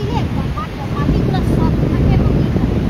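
Strong wind roars and buffets loudly and continuously at a beach in Sydney, with faint voices and a few whistly tones underneath.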